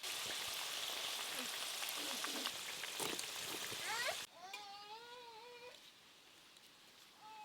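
Steady crackling sizzle of palm-fruit puri pitha frying in oil, then a voice starts talking over a quieter sizzle.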